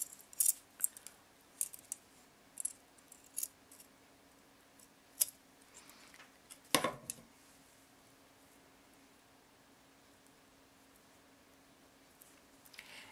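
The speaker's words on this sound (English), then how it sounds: "cut off your threads" Small scissors snip threads on handmade DIY earrings, a scattering of faint, sharp close-up clicks and snips at irregular intervals in an otherwise quiet room, with one louder cut midway.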